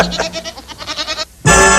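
A cartoon-style goat bleat, a loud, bright burst arriving abruptly at the end after a stretch of wavering, music-like sound, in a 1967 animated feature.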